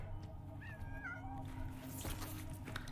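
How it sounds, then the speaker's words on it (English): A cat meows a few times in Death Stranding 2, short rising cries over a steady low game hum and ambient background. "Yeah, keep the cat away, please."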